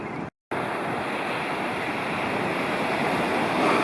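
Ocean surf washing onto a steeply shelving beach, a loud steady roar with wind buffeting the microphone and a brief cut to silence near the start.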